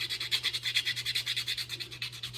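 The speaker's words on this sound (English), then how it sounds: "I'll basically just take a piece of sandpaper here and" Sandpaper rubbed by hand over a wooden part for a boat mast crosstree, a close, even back-and-forth scratching rhythm of about ten strokes per second, with no talking.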